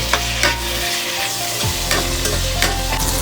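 Ginger garlic paste fries in a hot pan, sizzling loudly and steadily while a spoon stirs and scrapes at it in a few quick strokes.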